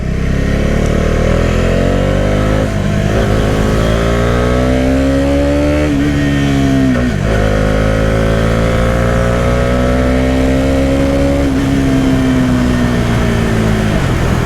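A Bajaj Dominar 400 motorcycle engine runs loud and close, its pitch climbing and dipping through several revs over a steady throbbing idle, with no talking.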